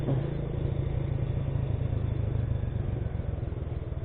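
An old, restored Honda Legenda motorcycle with a rebuilt engine runs hard, its close, throbbing mid-pitched exhaust note holding steady and rhythmic throughout without any voices.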